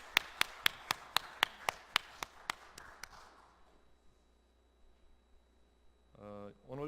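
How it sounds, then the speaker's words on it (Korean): A church congregation claps about a dozen sharp, evenly spaced beats in unison. The claps are crisp and fairly close, then fade out into quiet room tone, and a voice starts speaking at the very end. "우리 한번 하나님께 박수 한번 올리십시다."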